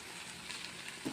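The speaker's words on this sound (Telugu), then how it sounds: "ఆయిల్ బయటకు వచ్చేస్తుంది అంటే ముక్కలు ఏగుతున్నాయి అని అర్థం" Okra and prawn pieces fry in oil, giving a faint, even sizzle that hisses on steadily with a slight swell near the end.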